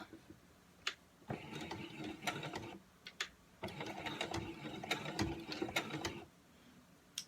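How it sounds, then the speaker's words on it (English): Sewing machine stitching a fabric headband, running in several bursts of steady mechanical whirring and ticking separated by short pauses, close and moderately loud with no voices. "Also, you're going to make sure that your sewing machine is set for make it tight."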